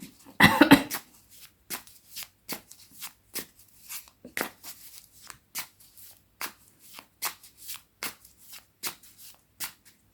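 A tarot deck is shuffled close up, with a burst of riffling followed by a long series of soft, evenly spaced card slaps and flicks.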